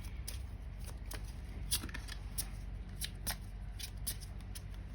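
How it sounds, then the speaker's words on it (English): A deck of cards is shuffled in a quiet room, with a steady run of soft riffling flicks and crisp snaps close to the microphone, and no talking. "As I stopped shuffling"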